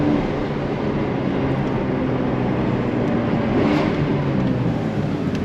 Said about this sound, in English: And listen to that downshift.